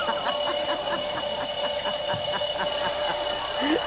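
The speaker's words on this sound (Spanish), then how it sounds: "no le quedó más remedio que esperar a que sonara el despertador de Mari." An alarm clock rings with a rapid, steady electric trill of repeated pulses, loud and continuous throughout, with no one speaking.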